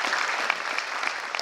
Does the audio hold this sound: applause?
yes